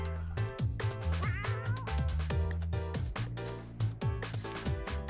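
A cat in the game Just Deserts meows insistently, its yowls rising over loud, rhythmic background music.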